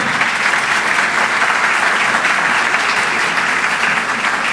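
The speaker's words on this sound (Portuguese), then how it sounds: "Enquanto a Silvana chega, a gente vai aplaudi-la." A large audience at a 2019 corporate awards ceremony for legal and finance executives applauds steadily and loudly throughout, a dense, even wash of many hands clapping without a break.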